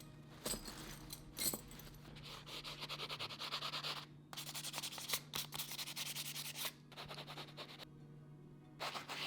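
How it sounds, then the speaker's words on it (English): Sandpaper on a sanding block rubs back and forth across leather for a Viking Birka pouch, a close, steady rasping scrub in repeated strokes with short pauses between passes. "we're going to sand it with a sanding block and some sandpaper"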